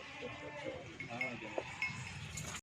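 Goats on a goat farm give several short bleats against busy background noise, with someone talking throughout.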